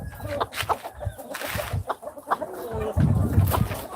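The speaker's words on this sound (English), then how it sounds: "he's pretty nice little chicken" A hen being handled and weighed on a small farm gives short, soft clucks in bursts close by, mixed with handling noise and the murmur of people talking nearby.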